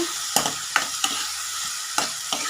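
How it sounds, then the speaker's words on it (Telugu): Kalekaya (karonda) berries fry in oil in a pan with a steady, loud sizzle, broken by several sharp scrapes and clacks as they are stirred, and no voices. "ఇంకా ఆయిల్ ఆయిల్ వేసేద్దాం వాక్కాయలు త్వరగా మగ్గిపోతాయండి"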